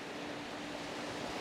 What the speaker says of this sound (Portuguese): Aqui na Barra Sul, as ondas, ó, elas são muito mais fracas, né?